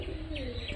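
A pigeon gives soft, low cooing near its chicks, a brief gentle murmur heard faintly and close against quiet background hiss.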